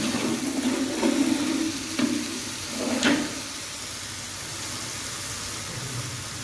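Ginger garlic paste and chicken sizzle and fry in a pot, a steady close crackle with a few brief stirring scrapes.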